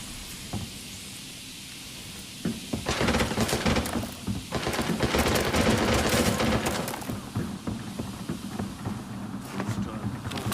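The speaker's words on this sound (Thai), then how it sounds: "ยิงปืนไปเองเลยแล้วกัน" T88 sniper rifle fire in the Arena Breakout shooter game: sharp shots crack out, then a dense rapid burst of gunfire with crackling echoes rises and fades, followed by further scattered reports.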